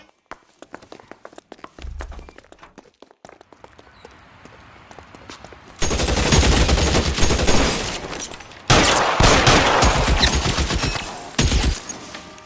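Gunfire in the video game L.A. Noire: sparse sharp clicks and footsteps give way to dense, loud bursts of rapid shots and a chaotic firefight that pauses briefly and resumes.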